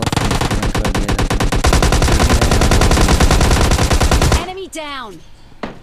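Rapid automatic gunfire rattles loud and close in the game PUBG Lite, a dense stream of shots lasting several seconds before cutting off into a few echoing tails and faint game sounds.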